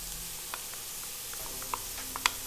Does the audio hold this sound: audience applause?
no